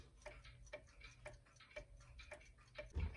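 A windup regulator pendulum clock ticks in a steady, evenly spaced rhythm of crisp ticks, close by and fairly quiet, with no talking.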